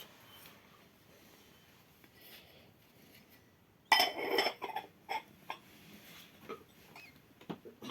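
Gilded Dubí porcelain tea set dishes, including a teapot and sugar bowl, clink and rattle as they are picked up and set down, several sharp taps after a quiet start.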